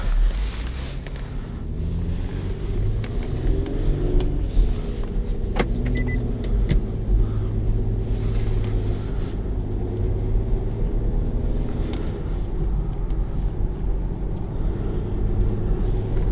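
A 2013 Infiniti EX37 driving, with steady low road and engine rumble inside the cabin, a faint whirring motor and a couple of light clicks over the constant hum.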